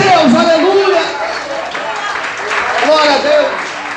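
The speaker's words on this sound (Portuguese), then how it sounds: "Quantos podem aplaudir e glorificar a Deus?" A church congregation claps and cheers in praise during a Portuguese-language sermon, a steady, fairly loud wash of applause running throughout while a voice carries on over it.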